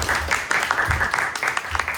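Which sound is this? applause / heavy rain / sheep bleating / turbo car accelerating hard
applause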